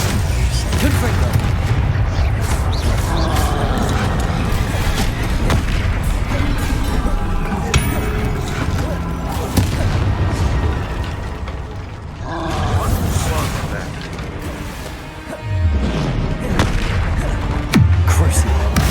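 Fire blast spells bursting repeatedly in Hogwarts Legacy combat, a dense barrage of loud booming explosions layered with battle noise and a roaring low rumble, with shouted spell incantations over the top.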